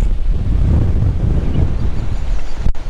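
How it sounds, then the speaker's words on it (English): Strong wind at a lake boat ramp buffets the microphone with a steady, low roar, gusting unevenly throughout, with no voices present. "it is so windy today"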